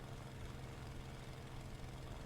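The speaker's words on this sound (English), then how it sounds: "The sound of the engine was strange, in fact." A P-47 aircraft engine in the War Thunder video game drones steadily and broadband with a low rumble, continuous and fairly faint, with no talking.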